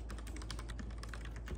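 Quiet, rapid typing on a computer keyboard: a fast, even stream of light key clicks over a low background hum.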